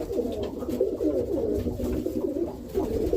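Roller pigeons on the ground coo in soft, continuous overlapping murmurs, a close, steady flock sound with no talk.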